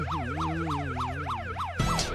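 A police car siren wails in a steady rising-and-falling cycle, loud and close, with no one talking, and a brief burst of other noise near the end.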